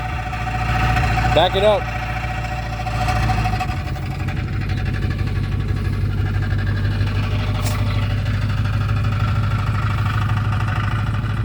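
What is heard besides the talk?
car exhaust while idling after transmission swap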